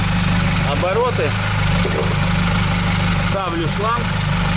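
A VAZ 2107 car engine idles steadily and loudly throughout, a constant low rumble with faint chirping and squeaks over it.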